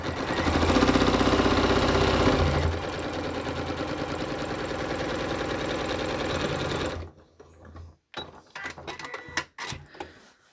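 A sewing machine stitches a handbag seam with a loud, rapid mechanical chatter that runs steadily for about seven seconds. It stops, and a few scattered handling clicks and rustles follow.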